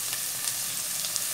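Chopped vegetables such as carrot hit a hot pot for vegetable broth, giving a close, bright sizzle with a steady crackle and no talking.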